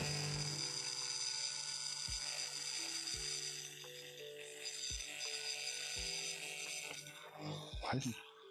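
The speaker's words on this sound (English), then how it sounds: "Why isn't this drilling? It's like barely doing a thing at all." Power drill in a workshop struggling against a painted surface, a steady whining motor hum with short bursts of grinding as the bit barely bites, ending in a louder scrape.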